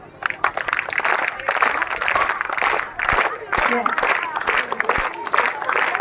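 Schoolchildren at a welcome ceremony for a district topper burst into lively group clapping, loud rippling applause in repeated waves while an adult voice speaks over it.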